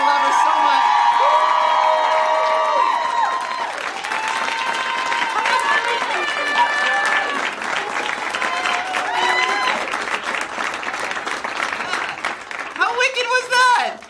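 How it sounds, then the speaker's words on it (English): An audience at a live comedy podcast recording bursts into loud, sustained applause with cheering and whoops, while voices talk over the crowd noise. "Let's have a round of applause for Janet."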